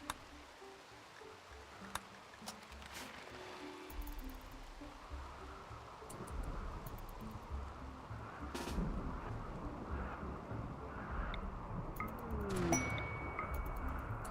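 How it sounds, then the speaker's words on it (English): Steady rain hiss in RimWorld fills the background while low thunder rumbles build and roll, with a few sharp cracks standing out above the downpour. "can it stop raining, please?"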